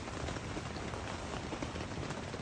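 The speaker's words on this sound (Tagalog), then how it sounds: "Malakas pa din ang ulan." Heavy rain drums steadily on a camping tent in a rainstorm at a campsite, a dense, even patter of close drops with no voices.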